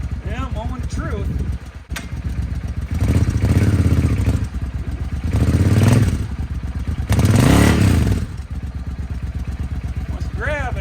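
A 2003 Suzuki Intruder VS800 motorcycle engine runs after a clutch slave cylinder replacement, a steady loud close rumble that swells in several revs with clattery mechanical noise.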